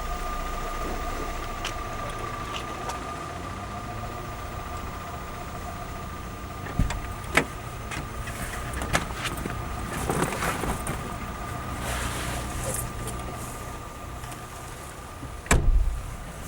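A police car driving at a steady pace, with a low continuous engine and road hum, light rattles and a few sharp clicks and thuds scattered through it, and no talk.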